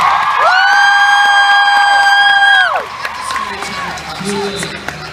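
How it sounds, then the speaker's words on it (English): Convention crowd at a stage panel breaking into loud cheering, whooping and applause, with a long sustained high-pitched scream from the audience before the noise settles into scattered clapping and chatter. "Can we have an applause break for?"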